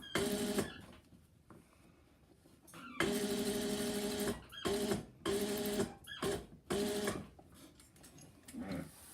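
A sewing machine stitches in the ditch of a seam while Hong Kong binding is sewn, running in several steady whirring bursts separated by short pauses, fairly quiet and close.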